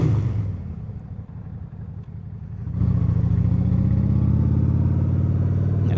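A Honda Shadow 750 Aero motorcycle engine idles with a low, steady rumble, then swells into a louder, fuller throaty drone as it revs up around the three-second mark and holds there.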